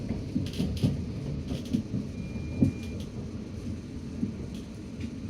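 A South Western Railway train running from Waterloo to Weybridge via Hounslow gives a steady low rumble with a few rhythmic thumps and clunks, probably wheels passing rail joints, plus occasional higher rattles, heard from on board with no speech.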